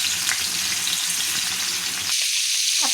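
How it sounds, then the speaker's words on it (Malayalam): Fish frying in a home kitchen pan, a loud steady sizzle filling the whole clip, with a brief sharper crackle near the end. "ഇതാ നമ്മുടെ മീനൊക്കെ വറുക്കട്ടോ"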